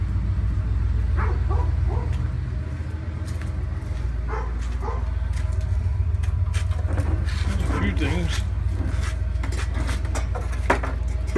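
A dog gives a few short barks and yips at a moderate distance over low outdoor rumble, with people talking nearby during the later part.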